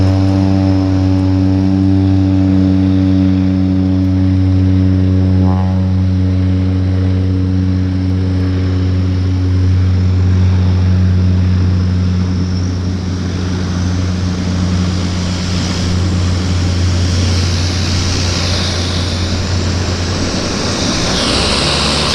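Steady, loud engine drone of a plane at Vancouver Harbour's floatplane airport, strong low tonal hum building into a broad roaring rush as it powers up toward the end, with no talking.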